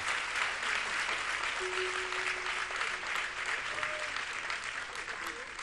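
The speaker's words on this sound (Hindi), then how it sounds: "अपने कार्यकर्ता भाइयों के मान में जोरदार तालियां बजाकर उनका सम्मान करें।" An audience at a Jain religious discourse gathering in Shirpur, Maharashtra applauds the volunteer workers with continuous, even clapping throughout, with a faint voice briefly audible underneath.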